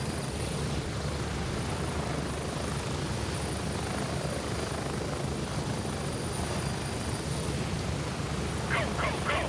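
Helicopter in the Gray Zone shooter game, a loud, steady rotor and engine roar filling the scene throughout, close and continuous with faint chirps near the end.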